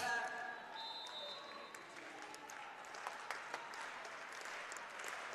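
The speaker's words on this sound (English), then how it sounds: "Crowd claps in support." A volleyball match crowd claps steadily in support, a continuous patter of applause from a mid-distance audience, with a few sharper claps standing out and faint voices mixed in.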